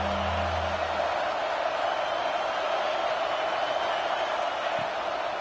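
A football stadium crowd at a Texas A&M vs UCLA game roars as a steady, loud, dense wash of cheering noise that fills the space throughout, with a brief low rumble near the start.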